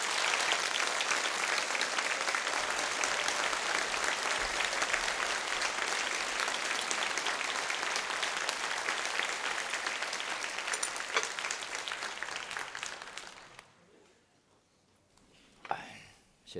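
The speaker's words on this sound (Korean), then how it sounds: "큰 박수로 또 우리 격려하고" Loud, sustained applause from a church congregation welcoming a missionary speaker, a dense wash of clapping lasting about thirteen seconds before fading out into near silence.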